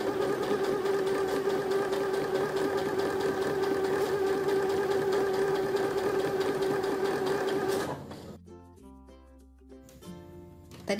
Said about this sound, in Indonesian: Setelah dikunci, teman-teman bisa mulai menjahit.